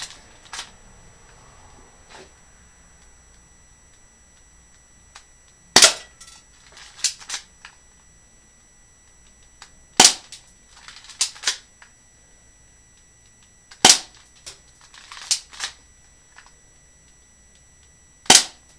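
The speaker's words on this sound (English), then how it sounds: "we're going to shoot again at the pellet gun target" Colt Combat Commander pellet pistol firing at a paper target: four sharp, loud shots spaced a few seconds apart, each followed by a cluster of small clicks and handling noises, with no talking.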